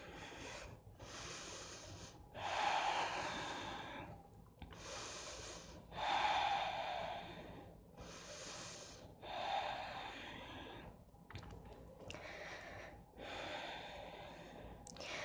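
Slow, deep breaths close to the mic during a yoga downward dog pose in Sun Salutation B, long inhales and exhales in a steady rhythm, roughly five full cycles with brief pauses between.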